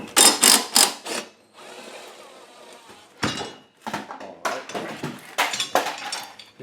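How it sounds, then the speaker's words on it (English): A 5/8 socket turns the bolt holding the blade on a Toro Recycler FWD lawn mower, giving quick bursts of ratcheting clicks, a steadier whirring stretch, then more clustered clinks and clicks up close. "it's a 5/8 socket to remove this bolt that holds the blade on"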